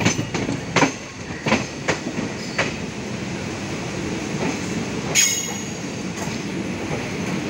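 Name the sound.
Tirupati-Puri Express train arriving at Khurda Road junction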